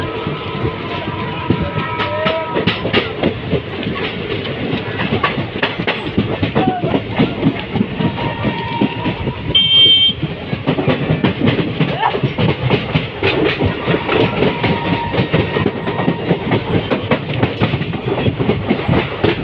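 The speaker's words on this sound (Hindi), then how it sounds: "देख सकते हैं हमारी ट्रेन फुल पिकअप में आ चुकी है।" A passenger train between Biharsharif and Rajgir runs at full speed, its loud steady rumble and continuous rapid clickety-clack of wheels over rail joints heard from inside the carriage, with faint voices underneath.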